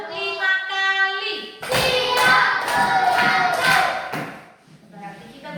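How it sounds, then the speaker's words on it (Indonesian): Children in a classroom clap their hands five times in a row, a quick run of sharp claps. Voices come before the claps and after them. "tepuk 5 kali"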